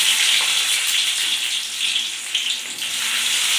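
Mustard seeds spluttering and sizzling in hot oil in a pan for a chicken gravy, a steady crackling hiss throughout, close and fairly loud with no talk.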